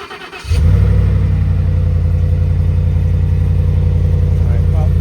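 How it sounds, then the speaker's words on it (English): A Ford F-150 truck engine cold-starts outdoors in freezing weather: a short crank, then the engine catches and settles into a loud, steady idle. "So I decided I'm going to do a few cold starts on my F-150, my Suburban, and then my lawnmower over there."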